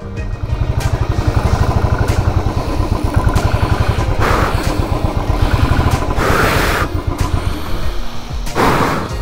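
A motorcycle engine idles close by at a homestay in the Sikkim hills, a loud, steady low throb with rapid regular pulses and a few louder bursts.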